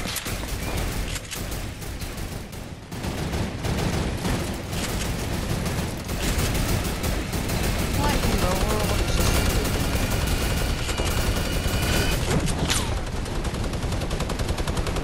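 Rapid gunfire from the Fortnite Battle Royale video game, a dense, loud, nearly continuous stream of shots and mechanical clatter that runs unbroken for the whole stretch, with no talking over it.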